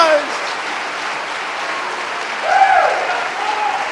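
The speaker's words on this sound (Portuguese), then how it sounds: "Eu daria um aplauso mais vibrante, mais emocionante, mais glorioso" A church congregation claps together, a dense steady wash of applause that swells slightly near the end, fairly loud and close.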